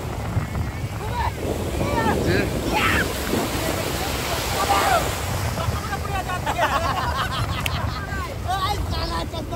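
Sea waves roll and break at Bakkhali beach with a constant rushing surf and wind buffeting the microphone, while people talk in the background.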